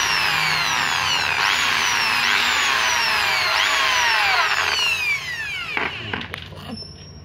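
Power drill boring into an aluminium cabinet door frame, a high whining motor with repeated rising and falling pitch sweeps for about five seconds, then winding down and stopping.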